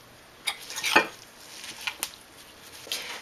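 A quinoa and parsley tabouleh salad is tossed in a bowl, with a few soft scrapes, squishes and light utensil clinks, close and quiet with no talking.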